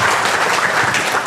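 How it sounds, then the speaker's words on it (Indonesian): Loud, dense applause fills a short moment at a Kangen Water business presentation, an audience clapping together without a break. "Tepuk tangan dulu buat Kangen Water."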